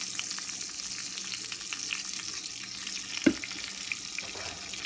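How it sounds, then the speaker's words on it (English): Minced garlic sautés in butter and olive oil with a soft, steady sizzle and faint crackle, close and quiet, with one sharp clink of a utensil partway through. "And we're just going to saute this."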